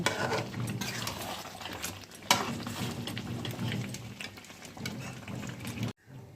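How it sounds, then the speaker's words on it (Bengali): Chicken being stirred and sautéed in a pan for chicken kosha, with steady scraping and sizzling across the clip, one sharper clatter midway, and an abrupt stop near the end. "চিকেনটা আমি আরও বেশ কিছুক্ষণ কষিয়ে নেব"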